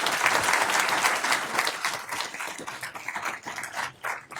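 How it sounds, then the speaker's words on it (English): Applause fills a county board of commissioners reorganization meeting as labor members stand, a continuous wash of clapping from a crowd that fades slightly toward the end. "take a round of applause"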